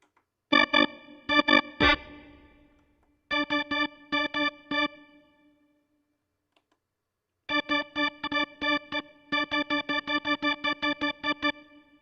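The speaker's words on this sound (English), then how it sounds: "Kind of a wah sound." Choppy, staccato electric guitar notes played in quick rhythmic bursts through a wah-style effect, separated by a couple of silent pauses.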